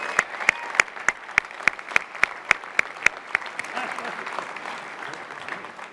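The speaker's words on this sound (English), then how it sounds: "One more big round of applause to the mayor in his exceptional speech." Audience applause at a college commencement ceremony builds from a few sharp, distinct claps into a broad, steady clapping crowd heard from a moderate distance.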